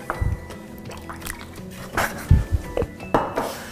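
A spoon stirs white wine vinegar into milk in a bowl for cupcake batter, a series of close clinks and scrapes with light liquid sloshing, irregular and fairly loud.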